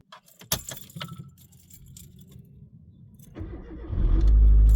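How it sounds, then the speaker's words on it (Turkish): A manual car in a driving lesson in Ankara is started after keys rattle near the ignition: brief clinks and handling noises, then the engine cranks and catches into a loud, steady idle at the end, with no talking. "Arabamızı çalıştır."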